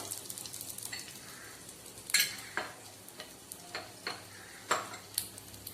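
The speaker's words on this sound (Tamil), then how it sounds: "இந்த மிளகு இது போட்டு நல்லா வறுத்துக்கணும்" Black pepper fries in a pan for moringa rice, giving a soft, low sizzle broken by a string of sharp spoon scrapes and taps as it is stirred.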